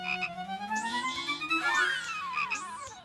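A cartoon frog on a sidewalk croaks with a steady, musical, wobbling call, set among looping whistle-like effects and no talking.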